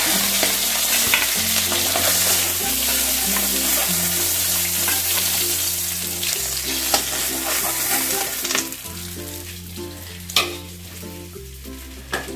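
Fish heads fry in oil in a wok for muri ghonto, making a continuous loud sizzle with occasional stirring scrapes and clinks, while background music plays underneath throughout.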